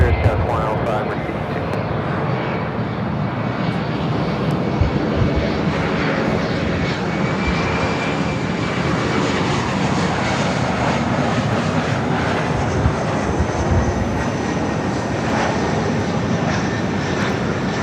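A United Express CRJ 700 ER regional jet coming into Los Angeles LAX from Boise, Idaho, gives a steady, sustained engine roar throughout, with people talking over the noise.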